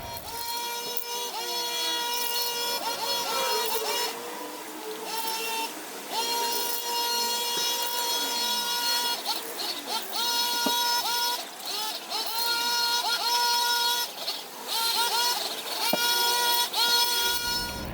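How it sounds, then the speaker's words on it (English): A lawn mower engine drones steadily outside for the whole stretch, its pitch wavering slightly as it moves, with no voices. "our neighbours are mowing their lawn, so you probably wouldn't be able to hear me outside"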